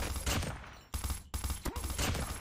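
M16 rifle hip-fire in the mobile shooter Call of Duty Mobile, heard as quick bursts of rapid, crackling shots in short clusters with brief gaps between them.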